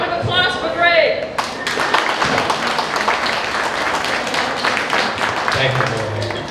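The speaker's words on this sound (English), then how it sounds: "So a round of applause for Greg." An audience at a homesteader meet-up claps for a speaker named Greg. A talking voice opens the clip, then steady, dense applause follows and carries on to the end.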